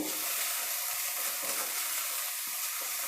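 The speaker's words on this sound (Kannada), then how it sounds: "ಈ ಸಬ್ಸಿಗೆ ಸೊಪ್ಪು ಚೆನ್ನಾಗಿ ಎಣ್ಣೆಯಲ್ಲಿ ಫ್ರೈ ಆಗಬೇಕು" Dill leaves frying in oil over a low flame, a steady soft sizzle and hiss running unbroken throughout with a few faint stirring scrapes, no voices.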